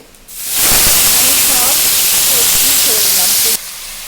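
Mustard seeds and five-spice phoron hitting hot oil, a loud, sudden burst of hissing sizzle that holds steady for about three seconds with faint popping, then cuts off abruptly.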